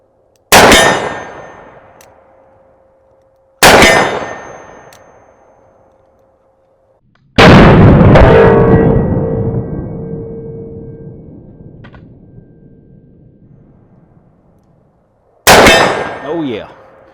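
Four loud shots from a Taurus Raging Hunter .460 revolver strike a steel target about 40 yards away, each a sharp crack followed by a long ringing metallic clang, spaced several seconds apart.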